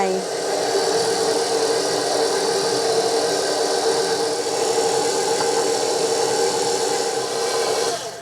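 An electric mixer hums steadily at low speed while beating cupcake batter as evaporated milk is poured in gradually, a constant close whirring with a voice talking over it.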